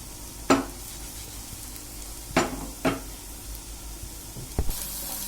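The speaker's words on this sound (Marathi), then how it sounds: "तर फ्रेंड्स, आपण या एका बाजूने आधी शॅलो फ्राय करून घेऊया." Coriander vadi shallow-fries in oil over a medium flame, a continuous soft sizzle broken by a few sharp clinks and taps of a utensil against the pan.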